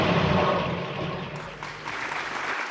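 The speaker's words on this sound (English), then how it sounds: "Spontaneous applause." Brief, spontaneous applause fills the room in a dense, close burst of clapping that dips halfway through, then picks up again before ending.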